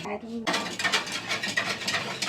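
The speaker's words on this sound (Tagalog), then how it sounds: "It takes time, you know, to stir it." A spoon stirs a coconut dessert mixture in a pot, with close, busy scraping and clinking of metal against the pot. The sound runs continuously after a short quiet start.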